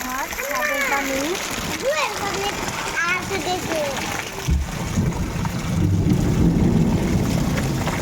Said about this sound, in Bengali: এই যে বালতি একটা দিয়ে দিছি তো পানিটা সুন্দর পড়তেছে